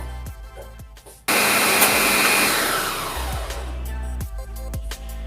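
A blender switches on sharply and roars steadily while chopping ginger for celery juice, the whirring pitch easing slightly as the pieces break down, then cutting off with a few light knocks and clicks around it.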